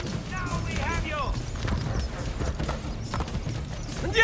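Hooves clatter in a fast, continuous gallop from a horse in Assassin's Creed Brotherhood, close and loud, while shouting voices and a brief whinny-like cry rise over the hoofbeats.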